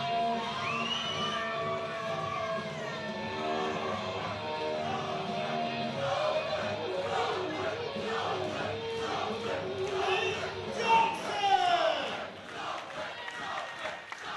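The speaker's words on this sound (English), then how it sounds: "You can hear all the Salford crowd." Salford crowd at a 72 kg Thai boxing world title fight, England v France, a dense roar of cheers and shouts filling the hall throughout and swelling near the end.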